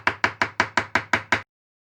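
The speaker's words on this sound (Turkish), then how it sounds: "Şöyle şunları da küçük küçük doğruyorum." Seven quick, even knife chops through strawberries against a cutting board, each a crisp knock with a short tail, then silence.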